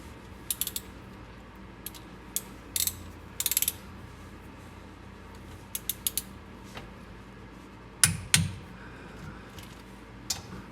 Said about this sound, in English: So that's what I have my torque wrench set to here.